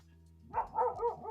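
Dogs bark at night near a camping spot beside a parked Mahindra Scorpio-N, a few moderately loud bursts following one another over a quiet backdrop of faint hum and insects.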